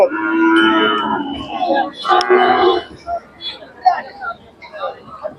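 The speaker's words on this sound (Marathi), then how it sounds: "सुंदर खिल्लार गाय आहे" A Khillar cow lows in long, drawn-out moos, then shorter calls trailing off, fairly close, with some background chatter at the Sangola cattle market.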